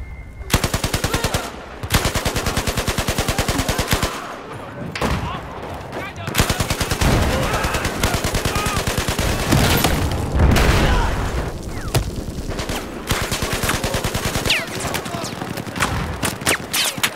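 Loud, sustained machine-gun fire in Battlefield 4 from a 200-round magazine, long rattling bursts broken by brief pauses and a few heavy booms, going on for the whole stretch.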